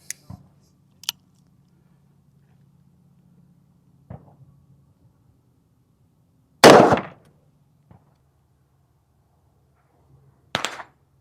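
A Ruger .480 Super Blackhawk revolver fires outdoors at a 2-liter Coke bottle: scattered sharp cracks, one much louder blast with a brief ringing tail midway, and fainter reports between stretches of quiet.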